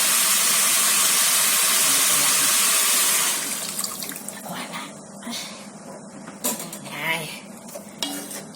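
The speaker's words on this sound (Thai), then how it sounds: "ก็เติมน้ำลงไป" A loud, steady hiss of water pouring into a pot of stir-fried chicken for a few seconds, then quieter clinks, bubbling and scraping of cookware.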